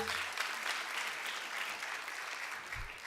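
Steady applause from a crowd, continuous clapping at an even level throughout, fairly distant and filling the room.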